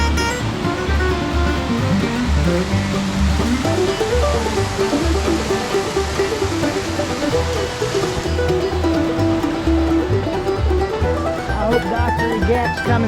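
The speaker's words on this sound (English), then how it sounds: "But it is a pretty little drainage fall" Dockery Gap Falls, a small drainage fall in Mountainburg, Arkansas, heard as a loud, steady rushing splash of falling water close by, with some pulsing low rumble throughout.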